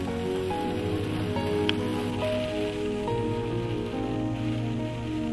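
Rain falls over the Norwegian mountains, a steady, close patter drumming on a surface beneath a low continuous drone, with no voices.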